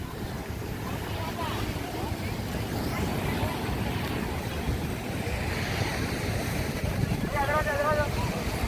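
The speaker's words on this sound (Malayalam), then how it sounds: "നല്ല തിരയുണ്ട് കേട്ടോ." Sea waves wash steadily at Dhanushkodi on the Bay of Bengal, a continuous broadband surge mixed with wind rush, while people talk faintly in the background.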